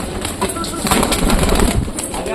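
Several pet pigeons of the Madras breed coo and flutter close by at feeding time, a dense, low, rolling murmur with some rustling.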